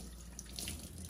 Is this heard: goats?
no